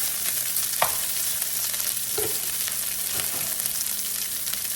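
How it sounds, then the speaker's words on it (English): Breakfast fried rice crisps in hot oil, a dense continuous sizzle heard up close with a few faint scrapes and taps of a utensil against the pan. "we're gonna let it just sit in the oil for a second"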